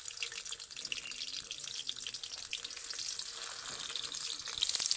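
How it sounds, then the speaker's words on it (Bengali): Pointed gourd fries in a little oil in a wok, giving a continuous soft sizzle and crackle throughout, slightly louder toward the end, with no voices. "হালকা হালকা তেলেই কিন্তু উল্টে পাল্টে পটলগুলোকে ভেজে নিতে হবে"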